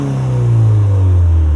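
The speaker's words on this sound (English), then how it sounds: "give it a little rev real quick. I want to hear the exhaust from outside." A modified 2020 Subaru WRX 6-speed manual revving through the exhaust, heard from outside, loud and close, a deep rumble that swells and then settles lower.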